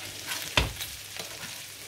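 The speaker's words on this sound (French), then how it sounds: "On va remuer un tout petit peu quand même." Romanesco cauliflower and small lardons sizzle steadily in a pan as a spoon stirs them, with a few sharp scraping knocks over the constant frying hiss, close up and without speech.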